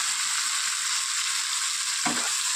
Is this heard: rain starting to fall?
no